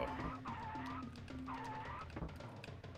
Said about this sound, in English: The race car noises are insane.